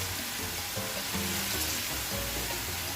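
Pork kare-kare mixture cooks in a pan with a steady, close sizzle and soft stirring scrapes, a continuous frying hiss with no talk.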